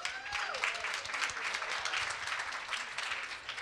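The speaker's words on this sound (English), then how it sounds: "Let's give them a round of applause." Audience applause at a journalism summit: steady, dense clapping from a seated crowd, moderately loud and sustained throughout with no pauses.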